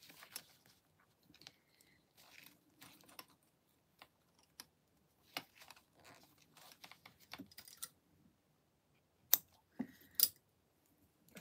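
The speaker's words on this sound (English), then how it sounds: "These snips from Fabric Therapy are great because they have nice, real pointy ends." Small, sharp-pointed fabric snips cut fabric beside a sewing machine, giving faint, scattered snipping clicks with quiet gaps and a few sharper snips near the end.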